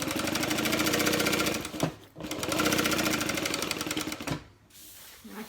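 Close, loud bursts from a sewing machine running a basting stitch along the edge of a tote bag, two sustained runs of rapid stitching with a brief stop between them and a quieter tail.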